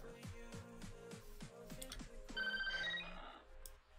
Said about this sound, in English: There's my phone.